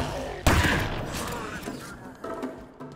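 Gunfire in Halo Infinite opens with a sharp burst of shots, then a thinner run of game combat noise trails off with another small flare near the end, all fairly loud and with no talk.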